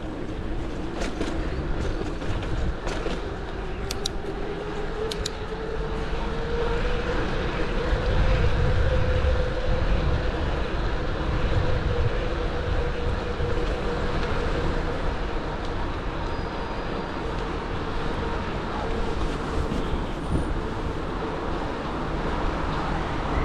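A train rumbles past a closed railway crossing beside a riverside bike path, a broad, steady roar lasting about twenty seconds and mixed with wind noise, with no one talking.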